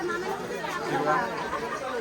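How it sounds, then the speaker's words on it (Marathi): Many people talk at once on the Kadepathar trek, a steady, moderately loud babble of overlapping voices with no single speaker standing out. "बघू शकता किती लोक आजले"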